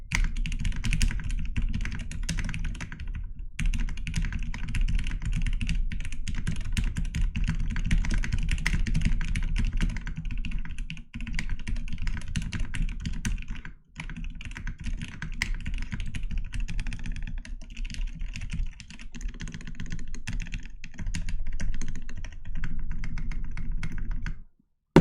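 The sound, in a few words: typing on a computer keyboard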